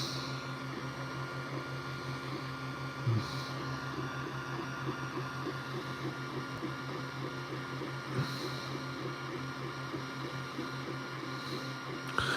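A 3D printer lays down its first layer, a steady whirring hum of stepper motors with tonal whines and a few brief clicks and bumps, continuous and moderately quiet with no talk.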